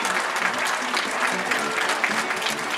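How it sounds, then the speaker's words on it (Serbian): Steady applause from a stadium crowd welcoming a youth football generation born in 2007, dense continuous clapping filling the whole moment, with a faint voice underneath. "Pozdravimo ih aplauzom, ovo je generacija 2007."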